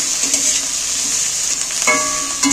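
Chopped onions being stirred in sizzling oil, a constant close hiss broken by a few scraping strokes of the utensil against the pan near the end.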